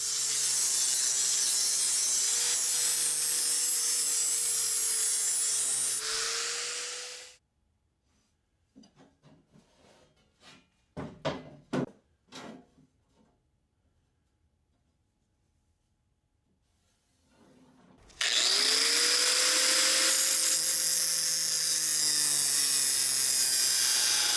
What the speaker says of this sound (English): after I get it cut to width, and before I can cut it to length, I need to bevel the front edge.